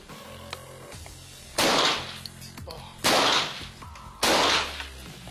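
Three loud, sharp cracks from a TriggerSmart smart rifle fired while the ring is worn, each a hard report with a brief tail, spaced about a second apart and close by.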